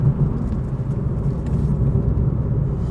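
A 2016 Renaultsport Clio 200 EDC hot hatch engine producing a steady low rumble, even and continuous, close by with no voices over it.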